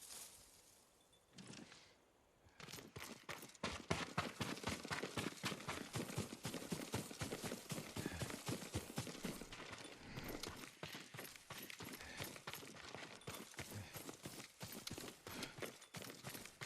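Hooves of Yuriko's horse clip-clop steadily in Ghost of Tsushima, a quick regular gallop of crisp close hoofbeats that starts after a brief quieter lead-in and continues unbroken to the end.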